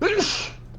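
A single close, sharp human sneeze, short and fairly loud, fading into quiet room ambience within a second.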